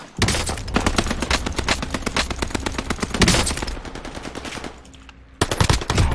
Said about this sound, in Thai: ยิงไกลยากอยู่นะปืนเนี้ย คือกระสุนมันไม่ตรงอ่ะ